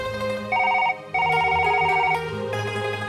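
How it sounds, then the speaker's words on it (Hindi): A telephone rings in a Hindi musical audio story: two bursts of trilling electronic ringing separated by a short gap, with a third starting at the end, over a soft sustained music bed. "दोपहर 2:30 बजे निशित का फोन आया"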